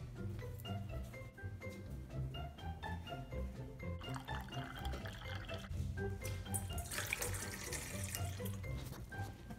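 Water running from a kitchen tap into a sink, a steady continuous splash under a busy layer of background music, close and moderately loud throughout.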